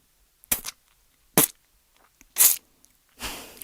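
A voice imitates web sounds for Spider-Man, producing four separate mouth-made thuds, squelches and impacts, sharp close pops spaced by quiet gaps, the last one a longer wetter burst.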